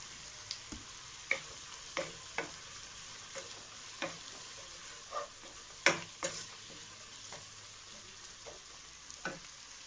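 Fresh mint leaves sautéing in a pan of tomato base for mutton kulambu: a steady soft sizzle with frequent scraping stir strokes and light utensil taps against the pan, close up and without voices.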